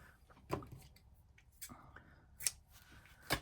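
Scissors snip through blue seam binding ribbon, three or four separate crisp cuts spaced about a second apart, close and fairly quiet, with soft handling rustle between them.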